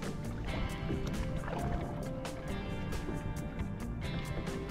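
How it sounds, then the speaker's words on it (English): Kayak paddle strokes dip and pull through lake water in an even rhythm, soft splashes and drips close by with light gurgling between strokes. "put your paddle in, pull back. Do it on both sides, go forward."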